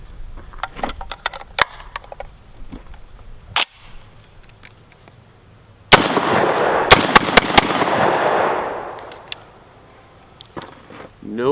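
Several sharp, loud shotgun blasts from a Rock Island Arsenal VR-80 AR-style semi-auto shotgun firing 2 3/4-inch, 1-ounce game loads fed from a 5-round magazine, spread irregularly across the clip with quieter handling sounds between.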